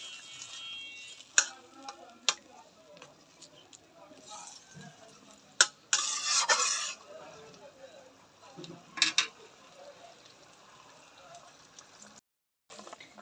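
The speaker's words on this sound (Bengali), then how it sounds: "ব্রকলিগুলো দিয়ে দেবো ঝোলে।" Broccoli goes into a simmering fish curry with broccoli: sparse clinks and taps of a utensil against the pot, one brief burst of bubbling sizzle, and otherwise a quiet kitchen.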